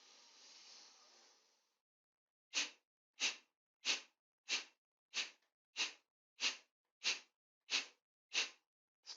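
Kapalbhati breath of fire, ten sharp forceful nasal exhalations in an even, quick rhythm, each a short hissing puff close to the ear, after one long slow breath out.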